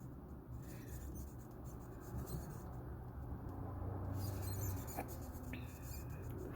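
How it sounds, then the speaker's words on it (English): Handwriting done with a marker, a faint scratchy rubbing of the tip across paper in short strokes, close and quiet over a soft background hum, with no talking. "This marker fits a little bit more with how thick I like to write for my handwriting to feel neat to me"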